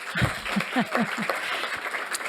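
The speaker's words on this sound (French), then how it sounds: "on va les applaudir" A short burst of applause for the stage crew from a small group at a general assembly, mixed with scattered voices and cheering.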